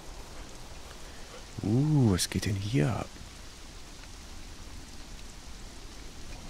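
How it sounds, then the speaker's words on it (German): Soft steady hiss of rain in the video game Conan Exiles throughout, with a voice briefly speaking over it. "aber hier regnet's"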